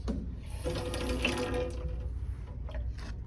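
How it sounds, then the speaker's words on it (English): Running tap water wets a toothbrush at a bathroom sink, a steady close rushing stream throughout with a faint higher tone partway through and no talk. "She's going to start by wetting the toothbrush"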